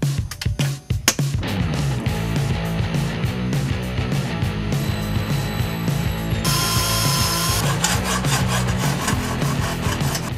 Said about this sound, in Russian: Для начала я сделаю отверстие под подшипник, вырежу небольшой квадратик.